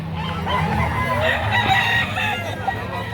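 A rooster crows loudly nearby at a chicken market, a drawn-out call with other clucking fowl around it.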